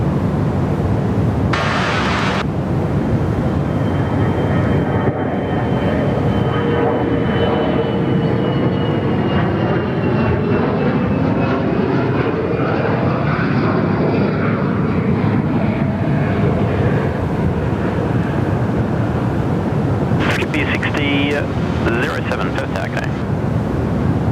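A Fokker 70 airliner takes off at Perth Airport, its jet engines building into a loud, steady roar that holds throughout, with voices faintly audible beneath it.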